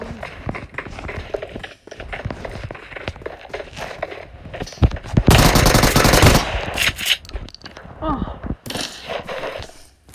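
Shotgun blasts and other weapon fire in the mobile video game PUBG Mobile, mixed with footsteps and clatter, with a dense loud burst in the middle as a player speaks over the action.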